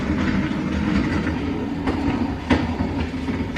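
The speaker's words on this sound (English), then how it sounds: "that noise is the back of the wheel hitting the suspension" The back of a Honda Civic's wheel rubs against the suspension while the car is moving, producing a continuous rumbling drone with rhythmic scraping and knocking, steady and close.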